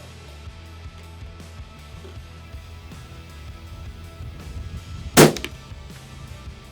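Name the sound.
hunting rifle shot at a range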